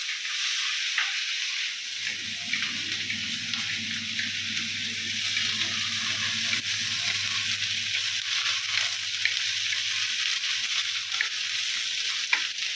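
Onions frying in a pan as a soft, steady sizzle and hiss, joined after a couple of seconds by a low continuous hum like an exhaust fan running alongside; no voices.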